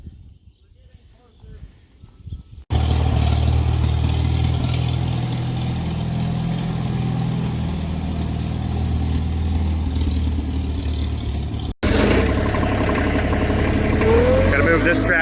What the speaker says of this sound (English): Gotta move this tractor so we get that one in the shop.